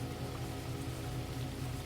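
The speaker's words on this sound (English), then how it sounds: "rain falls on the lake" Rain patters steadily onto a lake at night, a soft, even wash of drops with no voices and no break in the sound.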